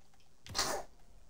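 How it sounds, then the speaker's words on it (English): One sharp sneeze rings out close by, a quick inhale followed by a bright, breathy burst that fades within a fraction of a second, otherwise quiet. "You're gonna sneeze and look right at me."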